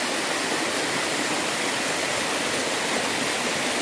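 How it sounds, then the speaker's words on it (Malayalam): Thusharagiri waterfall pours in a steady, dense roar of falling water, close and continuous, with no voices over it. "എന്താണ് അടിപൊളിയായിട്ട് വെള്ളം ഇങ്ങനെ വീഴുന്ന കാണുന്നില്ലേ?"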